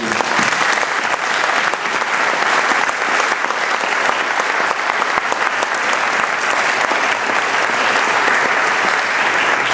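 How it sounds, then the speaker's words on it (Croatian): A conference audience gives sustained applause for panelists at a discussion on the financial crisis, Croatia and the European Union: dense, loud, even clapping that holds steady throughout. "zajedno se zahvalimo panelistima sa jednim pljeskom"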